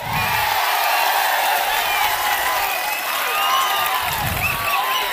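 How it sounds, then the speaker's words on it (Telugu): A large crowd at a Telugu Desam political rally with Chandrababu Naidu in Pendurthi constituency roars with cheering, whoops and scattered clapping, a continuous wash of noise from many people. "అవునంటే చప్పట్లు కొట్టండి."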